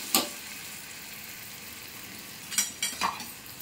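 Cumin, coriander, turmeric and salt fry in a pan over a steady close sizzle, with a few short scraping stirs of a utensil toward the start and end.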